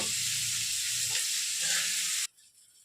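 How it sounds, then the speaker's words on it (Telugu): Capsicum fries in hot oil in a pan with a bright, continuous sizzle and a few soft stirring scrapes. The sound cuts off suddenly after about two seconds. "ఇలా బాగా ఫ్రై చేసుకుందాం."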